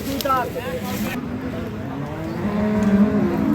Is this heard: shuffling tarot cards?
no